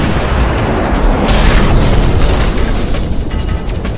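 A loud, sustained explosion rumbles and roars at close range in an action scene, with a dense, continuous blast that barely fades.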